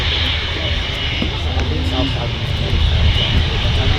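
Aircraft engines roar steadily at Manchester Airport on a windy, cold day, a loud, broad, continuous rumble with no clear break.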